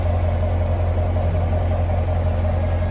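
Steady, close idle of a 2017 Chevrolet Corvette Grand Sport 3LT with its 6.2-liter V8, a deep even burble with no voices.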